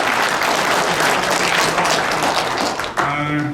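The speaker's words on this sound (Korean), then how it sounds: "박수 한번 크게 한번 공감을" Dense audience applause at a history lecture, loud and continuous for about three seconds before a voice starts speaking as the clapping fades.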